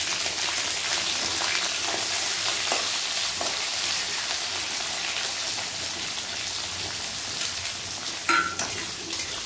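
Onions frying in hot oil with mustard seeds, curry leaves and chili for sambar, a steady dense sizzle running throughout with occasional stirring scrapes and a brief louder clatter near the end, no talking.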